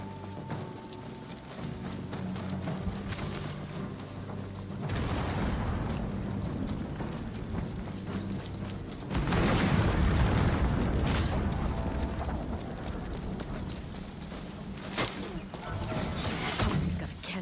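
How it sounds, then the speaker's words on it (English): Cannon fire in Ghost of Yotei: deep booming blasts with rumbling tails, one building around five seconds and a heavier one near ten seconds, set among hoofbeat-like clatter, whooshes and ongoing game noise, with speech mixed in. "Oh, he's got a cannon."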